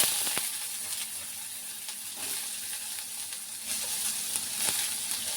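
Chopped onion frying in a little hot oil for a spicy Maharashtrian potato curry, giving a steady, close hiss and sizzle with faint stirring clicks throughout.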